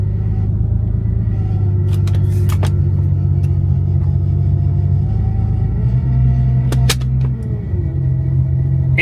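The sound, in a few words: car engine revving but not going into gear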